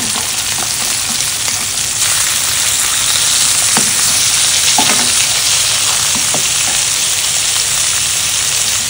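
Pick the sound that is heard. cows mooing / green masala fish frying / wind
green masala fish frying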